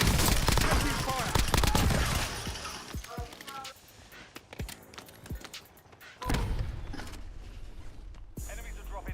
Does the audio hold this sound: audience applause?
no